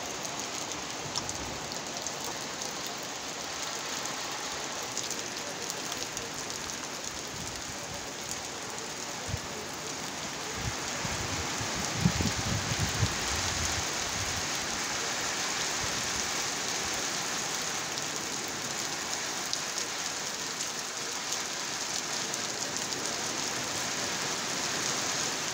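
Steady rain falls outdoors, a soft, constant hiss of drops on surfaces lasting throughout, with a faint low rumble around the middle and no talking.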